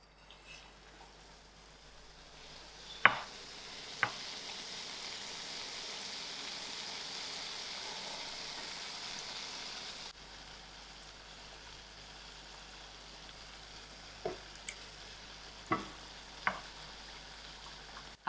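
Battered hake fries in hot oil with a soft, steady sizzle, broken by a few sharp clicks and knocks of cookware, two pieces cooking at a time.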